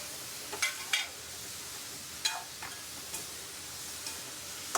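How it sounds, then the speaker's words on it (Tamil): Salted vegetables sauté quietly in a pan, a soft sizzle running underneath. Sharp stirring clicks and scrapes break through at irregular intervals, about half a dozen in all, close to the listener. "தேவையான உப்பு போட்டு நல்லா வணக்கி எடுத்துக்கணும்"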